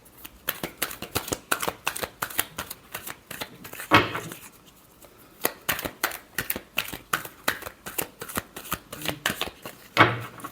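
A deck of tarot cards is shuffled by hand close up, a rapid run of crisp riffling flutters and slaps in uneven bursts that repeat steadily throughout, with no voice.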